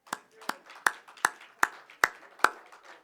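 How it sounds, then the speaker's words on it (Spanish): A preacher claps for his church congregation, seven sharp, evenly spaced single handclaps close by, each ringing briefly in a quiet room. "Yo merezco darle un aplauso a ustedes y lo voy a hacer."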